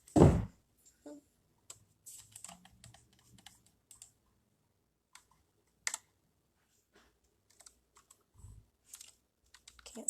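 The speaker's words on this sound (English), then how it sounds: "Can't see me typing in my password." A password being typed on a computer keyboard: a sparse, irregular run of light key clicks and taps, faint and close, with no one talking.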